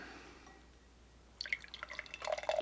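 Beer being poured into a Stella Artois glass at an off-grid wilderness home: after a quiet start, a sudden gush of liquid, then bubbly, dripping splashes that grow louder as the glass fills.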